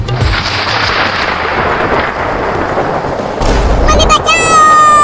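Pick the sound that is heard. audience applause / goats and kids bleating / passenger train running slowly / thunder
thunder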